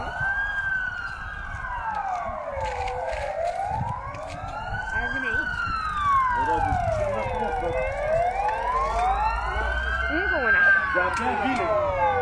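Police car sirens wailing at a fire scene near a club in Mamaia Nord, several overlapping rising-and-falling tones sounding fairly close and continuous, with people talking underneath.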